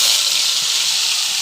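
Ground spice paste dropped into hot mustard oil with black cumin in a kadai gives a loud, steady steaming hiss and sizzle that fills the whole moment, with no talking.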